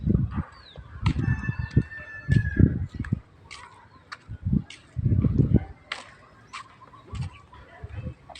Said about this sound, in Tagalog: May manok doon.